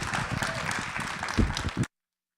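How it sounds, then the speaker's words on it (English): A brief burst of dense audience applause greets John Hope Bryant at a public service and financial wellness event, fairly loud and close before it cuts off abruptly. "everybody give a round of applause to John Hope Bryant"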